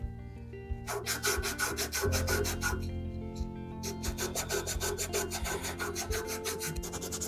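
Close rhythmic rasping of 120-grit sandpaper rubbing across the bevel of a Harbor Freight carving chisel, steady back-and-forth strokes with a faint ringing harmonic from the steel.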